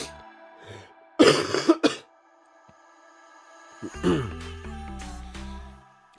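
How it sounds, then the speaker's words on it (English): Two bursts of harsh, loud coughing close to the mic, the first a rapid cluster of coughs, followed by quieter rustling and a second rougher cough. "Apologies if my coughing is very loud in the mic."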